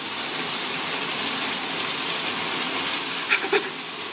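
Heavy rain with hail falling outside, a dense steady hiss of pelting drops with a few sharper knocks toward the end, no voices over it.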